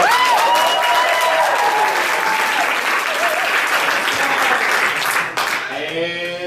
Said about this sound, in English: Give Cameron a round of applause.